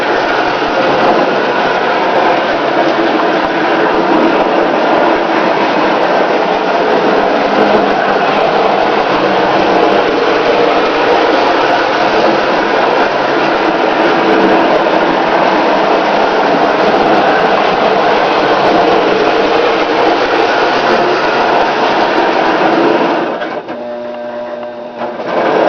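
A Marx 10005 toy freight train with a dummy engine running on its track, a steady close mechanical whir and rattle that holds for over twenty seconds before cutting off abruptly near the end.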